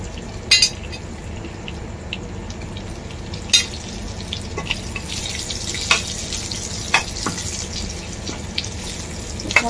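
Dates frying in ghee in a pan for dry-fruit laddoos, giving a steady close sizzle and crackle with a few sharp pops and scrapes scattered through, no voices.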